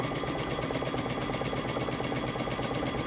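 A sewing machine runs steadily for several seconds, back stitching a seam on a Press On Panel quilt, its close, even mechanical whir droning without pause.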